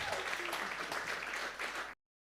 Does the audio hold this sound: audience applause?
yes